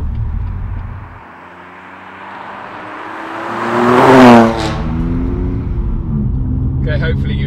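A BMW M2 Competition fitted with new suspension passes by, its engine rising to a loud roar with a pitch sweep, then settling into a steady engine drone with a faint higher tone at the end.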